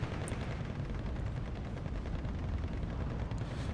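Nebelwerfer rocket artillery firing in the Steel Division 2 war game, a dense rumbling barrage of overlapping booms and crackling blasts, continuous and fairly faint, with no speech over it.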